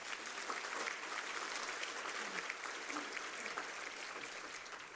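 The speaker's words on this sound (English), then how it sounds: "I think you need to give him a round of applause." Sustained applause from a sizable crowd, steady dense clapping that holds at an even level throughout.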